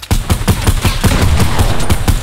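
Rapid automatic gunfire from a video game, a fast loud burst of evenly spaced shots rattling close by for about two seconds without pause.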